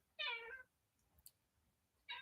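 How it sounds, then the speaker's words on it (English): A house cat meows close by, one drawn-out, insistent meow followed after a pause by a shorter second one, with faint clicks in between in a quiet room. "Yeah, you hear the kitty."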